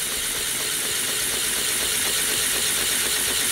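A small air compressor driven by a Lego motor at 12 volts runs steadily with a constant hissing whir and a low motor hum, unchanging throughout.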